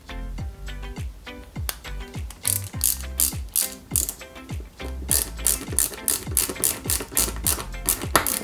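Small screws driven into the oil pan gasket of a Lancia 037 model car, a quick repeated ratcheting clicking of the tool in bursts, close and crisp, picking up pace toward the end, with no talk.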